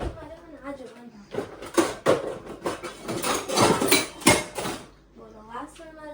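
Dishes and cutlery clatter and clank in a home kitchen during a search for a plate for dosa, loud bursts of rattling in the middle, with a person talking before and after.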